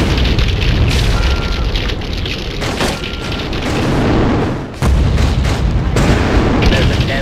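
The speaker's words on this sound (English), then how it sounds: "Rocket launcher." Rocket launcher explosions in the top-down game GTA2 multiplayer arena: loud, dense booming blasts follow one another almost continuously, with a brief dip before another burst, over busy game noise.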